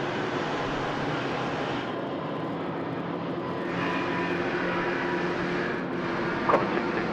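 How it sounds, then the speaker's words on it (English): A Cathay Pacific airliner rolls down the main runway at Sydney Airport, its jet engines a steady, fairly distant roar that swells slightly partway through, heard alone without talk. "Cathay now rolling."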